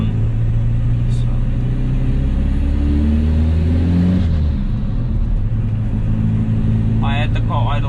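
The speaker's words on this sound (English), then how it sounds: "I had the car idle now for about 10 minutes" A Volkswagen Polo's engine idles steadily in a garage after the air intake assembly is refitted with the dry flow filter left off, a constant low rumble throughout with a voice briefly heard near the end.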